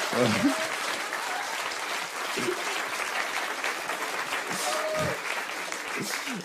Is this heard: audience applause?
yes